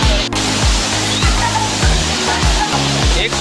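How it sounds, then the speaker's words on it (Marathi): Steady broadband rush of the Sawdav waterfall in Konkan, a loud continuous roar close by, with low rhythmic thumps pulsing beneath it throughout. "चला तर मग धबधब्यात जाऊया."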